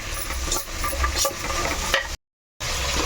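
Peas and mixed vegetables frying in a pan give a loud, dense sizzle with stirring scrapes, which cuts out briefly near the end and then resumes.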